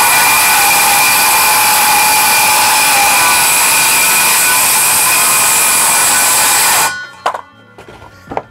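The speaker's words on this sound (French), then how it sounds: "Donc on va pouvoir attaquer comme ça la découpe." A loud power saw cuts through a wooden pallet board with a continuous high whining roar that runs for about seven seconds before stopping abruptly, leaving a few faint clattering knocks.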